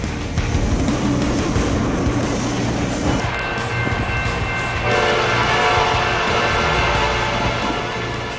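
A train passes a level crossing, its rumbling wheels and cars loud and close, then a long sustained horn blast sounds out over the roar for the last few seconds.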